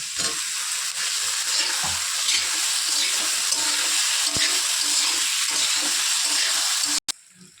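Tomato and capsicum are stir-fried in a pan for a Bengali chicken chotpotari, giving a loud continuous hissing sizzle with scattered scraping that cuts off abruptly near the end, and no voices.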